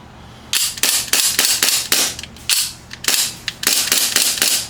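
KJWORKS CZ Shadow 2 airsoft pistol running on propane gas, fired in a quick string of about a dozen sharp, close pops with brief pauses between bursts, no talking.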